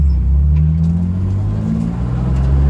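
A 1995 BMW M3 pulls hard in first gear, its engine holding a loud, steady low rumble with a rising drone that climbs in pitch through the pull, heard from inside the car with no talking.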